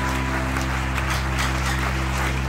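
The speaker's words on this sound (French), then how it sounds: "Acclamons le Seigneur." A church congregation claps to acclaim the Lord, a steady wash of applause at full level beneath a sustained musical hum.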